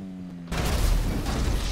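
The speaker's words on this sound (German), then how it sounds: "Das hat gut funktioniert. Ich habe nur die Explosion gesehen." A loud explosion in the video game GTA 5 Online bursts in suddenly after a quiet half second and leaves a dense, rumbling roar that holds steady to the end.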